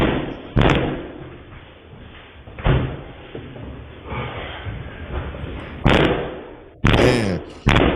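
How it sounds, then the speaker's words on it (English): Doors being kicked in, several heavy thuds and slams at irregular intervals over a loud, noisy background. "you can hear him kicking in multiple doors"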